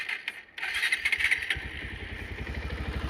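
A used motorcycle with an engine in good working order, heard close up: after some light clatter the engine catches and settles into a steady, even chugging idle.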